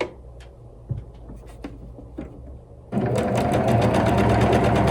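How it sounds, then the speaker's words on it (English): A sewing machine stitches quilt squares together with a quarter-inch seam, a few soft handling taps first, then a steady, close whirring run of the needle. "You just have to sew them together."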